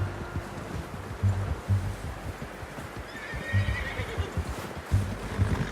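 Horses in Red Dead Redemption 2 neigh and whinny several times over a run of clip-clopping hooves, fairly close, with faint outdoor rustle behind them.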